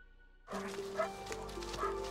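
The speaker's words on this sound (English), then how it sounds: "Police used cadaver dogs to search the Bruns home" A police cadaver dog barks and yips several times at close range during a house search, short sharp barks breaking a quiet background.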